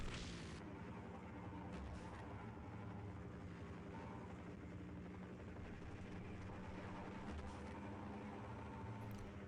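Gunfire and heavy rumbling in Half-Life during a military encounter, heard as a sustained, loud, dense wash of booming noise with scattered sharp reports.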